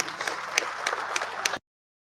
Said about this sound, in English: Could you please give him a round of applause?